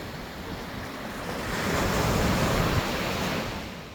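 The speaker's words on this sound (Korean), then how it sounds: "확실히 양양 쪽 바닷가가 파도가 더 센 것 같습니다." Strong ocean surf breaking on the beach at Yangyang on Korea's east coast, a continuous wash of waves swelling louder in the middle, with some wind rumble and no voices.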